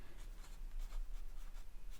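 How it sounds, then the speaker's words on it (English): Close, soft scratching of an ink pen on paper while drawing Inktober pumpkins, quick irregular strokes in short bursts. "I'm gonna write it here."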